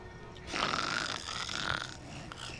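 Loud, rasping snore in a bedroom at night, one long drawn breath followed by a shorter second rumble, close and alone with no talk over it.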